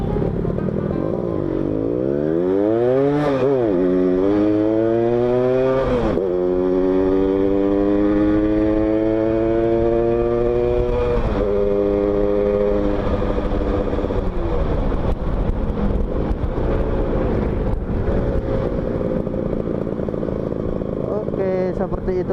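Two-stroke motorcycle with an exhaust fitted with 2 mm and 2.5 mm baffle holes, ridden through turns and a U-turn, revving up and down in repeated rising sweeps, loud and close throughout.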